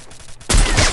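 Burst of gunfire in the mobile battle royale game Free Fire during a competitive match, a loud dense volley erupting suddenly after a quieter stretch and sustained to the end.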